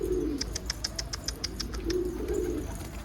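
A racing pigeon lands at a backyard loft: a quick run of sharp wing claps and flutters up close, with soft low cooing before and after, in a quiet garden.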